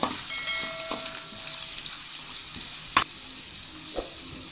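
Onion and green chilies frying in a pan for semiya lemon bath, a soft continuous sizzle with an occasional sharp clink of a spoon against the pan.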